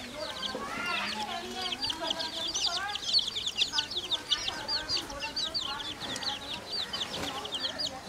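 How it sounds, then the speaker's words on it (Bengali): Domestic chickens cluck and chatter in a house yard, many birds calling in quick overlapping bursts at mid distance, with a voice speaking now and then over them. "এগুলো হচ্ছে আমাদের বাড়ির মুরগি। এই যে বাড়ির উঠানের সামনে"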